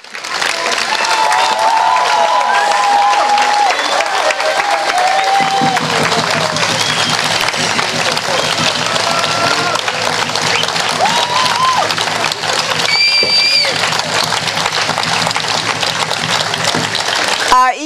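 Sustained audience applause at a children's folk ensemble performance, a dense wash of clapping from a large crowd, loud and steady throughout with faint tones over it.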